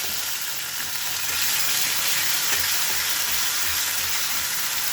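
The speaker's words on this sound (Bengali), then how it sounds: "টমেটোগুলো বেশ ভাজা ভাজা হয়ে গেছে। এবার এই আদা আর কাঁচা লঙ্কা বাটাটা দিয়ে দিলাম।" Tomatoes frying with ginger and green chili paste in a pan give a steady, close sizzle and crackle that runs unbroken throughout, with no voices.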